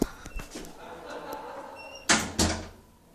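A school door on a door closer swings open and then eases shut, with soft thuds and clicks before two louder knocks near the end, heard indoors with some room echo.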